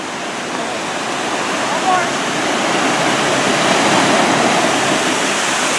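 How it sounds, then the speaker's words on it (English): A coastal waterfall near the ocean at Samuel H. Boardman State Scenic Corridor in Oregon roars in a loud, steady rush of broadband noise, constant and unbroken, with no clear speech over it. "That's the waterfall right there."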